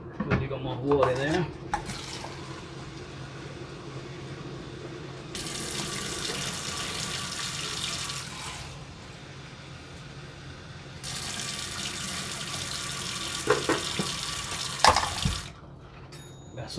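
Tap water runs into a kitchen sink during cooking of split pea soup with ham, a steady broadband hiss in two long pours with brief pauses, alongside clinks of pots and utensils.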